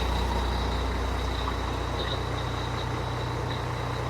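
A Volvo FH12 truck engine runs steadily at idle, a low continuous rumble with a faint high whine above it, close and unchanging throughout.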